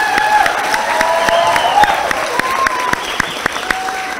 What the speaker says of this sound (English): Can we give a round of applause so far?